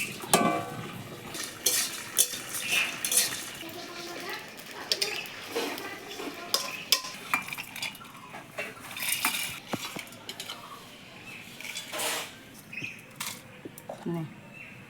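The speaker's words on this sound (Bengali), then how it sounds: "এখন আমরা মশলাটা ভেজে নিই।" Spices frying in a pan for a prawn and banana-flower dish, with repeated metal clinks and scrapes of a spoon stirring against cookware, close and fairly busy; a voice speaks intermittently.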